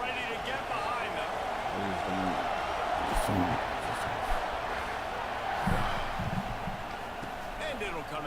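Stadium crowd noise in a Madden football video game rises in a steady roar under continuous play-by-play commentary around a kickoff after a touchdown.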